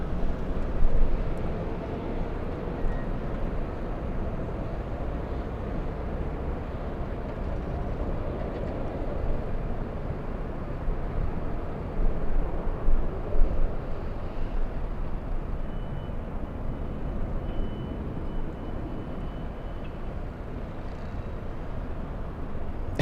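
A KLM Boeing 787 airliner departing LAX for Schiphol produces a steady, broad roar of jet engines that swells slightly midway through and is heard from a distance, with no voices.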